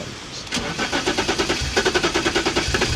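BMW E34 engine cranking with a steady starter rhythm, then catching and starting rough while overfueling on an older car, pulsing unevenly and close by.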